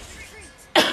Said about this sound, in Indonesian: Soalnya aku ini agak pilek, agak batuk ya guys.